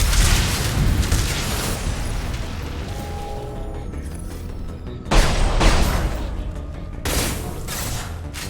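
Gunfire in the Mass Effect 2 video game: a dense, continuous battle din of shots and booms with louder bursts near 5 and 7 seconds, steady and fairly loud throughout.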